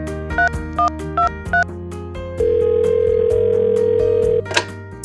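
A telephone call to a flight attendant drug and alcohol helpline: four short, evenly spaced dialing beeps, then a steady, loud ringing tone held for about two seconds before it stops.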